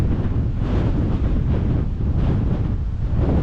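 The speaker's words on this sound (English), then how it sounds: "it's pretty windy up here" Strong wind buffets a hilltop, a loud continuous rushing roar that gusts and swells steadily throughout, with no other sounds standing out.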